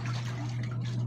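Water runs into a container being filled for rinsing laundry, a steady trickling and splashing flow under a constant low hum.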